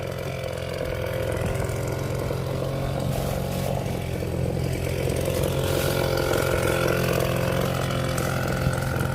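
A leaf blower roars continuously and loudly, close by, fluffing up freshly laid sod over a French drain in a wet, muddy yard, with no talk over it.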